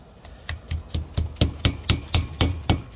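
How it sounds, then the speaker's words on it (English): A plastic hammer or rubber mallet taps a wheel bearing race into a brake rotor, about a dozen evenly spaced sharp knocks in a steady rhythm, close and fairly loud. "You want to get your plastic hammer or your rubber mallet and slowly, slowly walk it in evenly"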